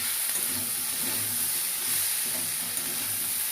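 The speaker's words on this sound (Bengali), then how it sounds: "আলুটা কিন্তু একদম লাল লাল করে ভাজতে হবে।" Potatoes fry in hot oil with turmeric and salt for a banana-flower curry, giving a steady, close sizzle and hiss with a faint low rumble beneath and no talk.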